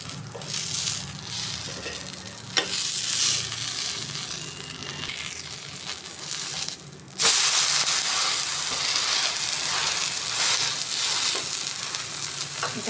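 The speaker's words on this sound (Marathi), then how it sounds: "आता उत्तप्पा पलटी मारत आहे" Beetroot uttapam with onion and tomato sizzles steadily on a hot pan, the frying hiss jumping louder and brighter right after it is flipped, then holding a strong continuous crackle with no talking.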